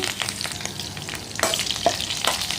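Mustard seeds, green chillies and curry leaves fry in oil with a steady close sizzle, broken by a few sharp pops and crackles.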